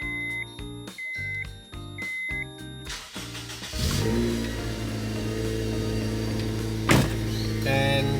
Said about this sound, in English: let's fire the car up